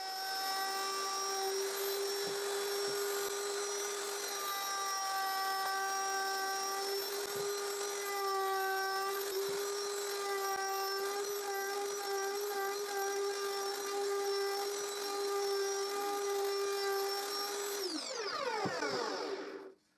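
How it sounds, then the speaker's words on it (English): A router fitted with a round-over bit rounds the corners of a reclaimed-wood finger joint box, its loud steady high-pitched whine holding for most of the run before spinning down at the end. "I use a round over router bit to round all the corners."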